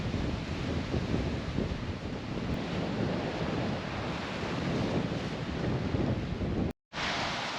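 Surf washes steadily against natural sea arches on the Newfoundland coast, a continuous roar of waves mixed with gusty wind buffeting the microphone, loud and close, with a brief dropout near the end.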